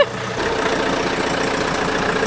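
An old, big van that had sat unused for a week runs on a cold day, its engine idling with a steady, close mid-to-low rumble and no clear start-up crank.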